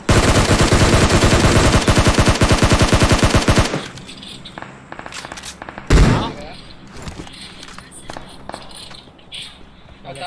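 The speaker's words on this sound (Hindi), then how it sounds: "कौन शॉटगन मार रहा है?" Gunfire in the battle royale game PUBG Mobile: a dense, rapid burst of loud, close shots for several seconds, then quieter scattered noise and one heavy single blast.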